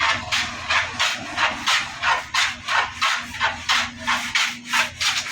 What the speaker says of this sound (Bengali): ফিনিশিং করে ঘষে মেজে রাখছি